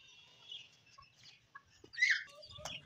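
Backyard chickens and roosters give a few scattered, fairly faint clucks and calls with quiet gaps between them, one louder squawk near the middle, and no talking.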